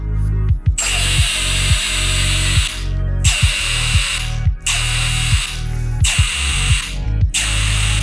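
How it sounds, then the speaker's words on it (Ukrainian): A Milwaukee M18 ONEDD2 cordless drill strains to drive a self-tapping screw, loud close bursts of motor whine broken by rapid ratcheting clutch clicks, repeated about five times with no voices. "Навіть 135 ньютон ледь-ледь закручує цей саморіз."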